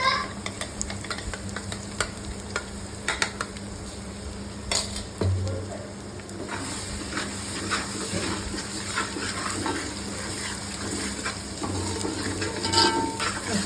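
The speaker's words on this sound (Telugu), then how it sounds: "ఇలా చూపిస్తున్న విధంగా అది వేసుకొని బాగా అంతా కలుపుకోవాలి." Fish curry ingredients stirred in a sizzling pan, with a spoon scraping and clinking against the metal in irregular strokes over steady frying noise, close by and moderately quiet, no speech.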